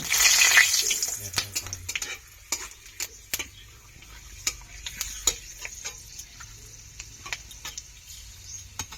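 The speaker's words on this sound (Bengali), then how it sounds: "এবার আমি ফোড়ন দিয়ে দিলাম।" Whole spices drop into hot oil for a spicy duck curry, giving a loud sizzling burst at first that quickly settles, followed by scattered clinks and taps of a utensil against the pan.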